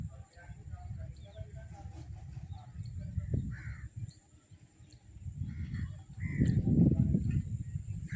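A few faint, distant crow caws over a low rumble and soft background voices.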